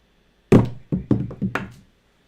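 Dice struck with a stick at a craps throwing session: a loud close knock followed by four quicker, lighter clattering taps trailing off, with no talk.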